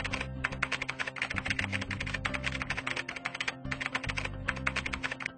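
Rapid typing on a computer keyboard while working in Outlook: a close, continuous stream of crisp key clicks with a brief pause midway and no voices.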